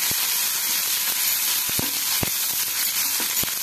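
Chopped onion sizzles steadily in hot mustard oil in a kadai, with occasional sharp spits and pops over the constant loud hiss.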